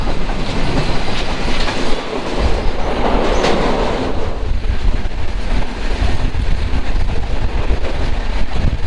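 Chilahati Express passenger train running on rails, a loud, continuous rolling rumble with clickety-clack from the wheels and wind buffeting, heard from on board with no voices.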